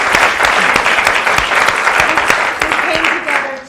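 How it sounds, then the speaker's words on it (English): An audience claps steadily and loudly for several seconds, the applause tapering off slightly toward the end. "So give a round of applause to these"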